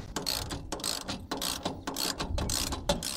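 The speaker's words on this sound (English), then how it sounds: "You'll use a 1/2 inch socket 3/8 ratchet." A 3/8 ratchet with a 1/2 inch socket tightens the bolts of a Truxedo Deuce tonneau cover on a Ford F150, giving a close run of rapid pawl clicks in short bursts.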